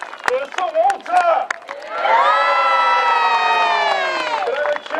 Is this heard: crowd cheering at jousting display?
yes